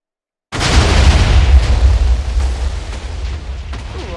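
A meteoroid firework bursts in a Minecraft-style video game server: after a moment of silence, one loud deep boom starts a long crackling, rumbling sizzle that slowly thins out, with no voices over it.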